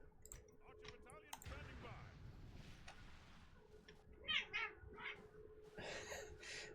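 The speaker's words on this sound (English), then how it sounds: "my cats are making some noises" Cats meow faintly in the background, a few thin drawn-out cries rising over a quiet room hum and soft clicking, with a voice speaking at times.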